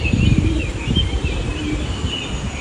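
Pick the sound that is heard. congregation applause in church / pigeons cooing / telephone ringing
pigeons cooing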